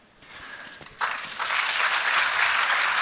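After a brief quiet moment, an audience at a panel discussion breaks into sustained applause, a dense, steady clapping that swells quickly and holds at full strength.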